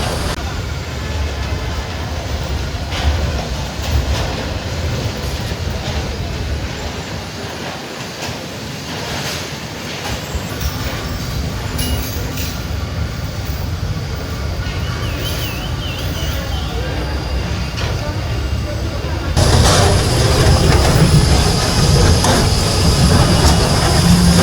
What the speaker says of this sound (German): Wir fahren die Bahn gerade.